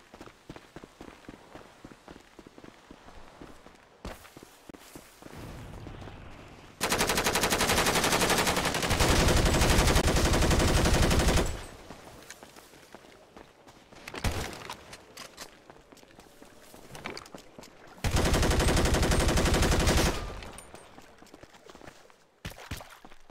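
Bursts of rapid automatic gunfire in the video game FiveM (GTA V) during a purge night come in several loud sustained volleys separated by quieter stretches with footsteps.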